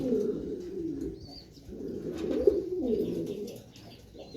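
Three silver pigeons coo steadily in low, throaty rolling phrases, fairly close and continuous, with faint chirps in the background.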